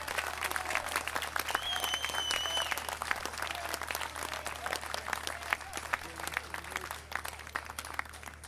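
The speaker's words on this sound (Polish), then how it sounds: "Brawa dla nich" Outdoor event crowd applauding steadily for the organizers, a dense, sustained wash of many hands clapping throughout, with some voices mixed in.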